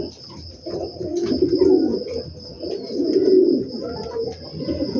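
Low, throaty pigeon cooing from two pet pigeons in two or three rolling phrases, close and fairly loud, with a steady faint whine in the background.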